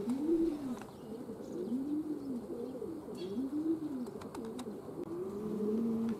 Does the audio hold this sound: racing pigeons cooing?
yes